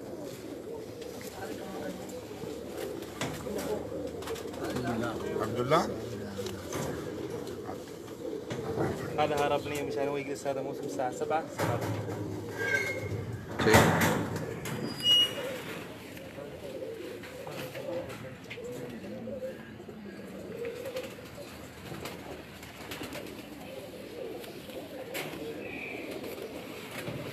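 Pigeons coo from a rooftop loft in a soft, repeated murmur beneath close conversation between men, with a brief louder rustle partway through.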